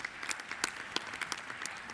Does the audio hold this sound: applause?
yes